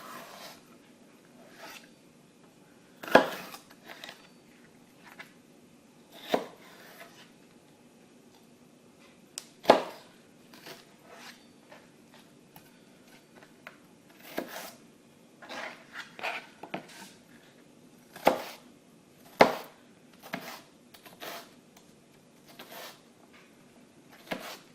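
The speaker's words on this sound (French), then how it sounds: "Puis je le coupe en petits morceaux" A knife cutting chicken into small pieces for skewers, sharp sparse chops and taps against a board at irregular intervals, close up and with no talking.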